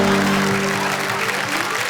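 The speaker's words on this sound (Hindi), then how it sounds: "एक बार जरा तालियां" A comedy show audience applauds, giving a dense, steady wash of clapping that stays loud and close for the whole two seconds.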